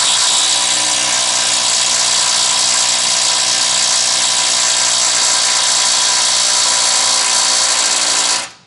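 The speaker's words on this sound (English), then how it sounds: "Let's try my Ryobi lithium 18 volt." A Ryobi 18-volt lithium cordless impact tool whines loud and steady on a bolt of a 1997 Dodge Dakota's torsion bars, running continuously before cutting off abruptly at the end.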